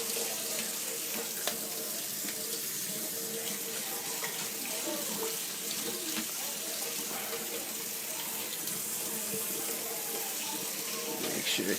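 Tap water running steadily into a sink while beans are rinsed, a continuous splashing rush up close, with faint clinks now and then.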